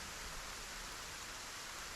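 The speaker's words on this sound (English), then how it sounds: "It's raining again." Rainfall in the video game Lay of the Land, heard as a dense, unbroken hiss that stays even and steady throughout with no other sounds.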